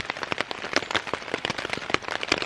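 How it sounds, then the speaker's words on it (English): Rain patters steadily onto a tarp shelter at a solo wilderness camp in the woods, a dense, close crackle of drops tapping in quick irregular bursts. "as soon as I lit the fire, don't you know, started raining again"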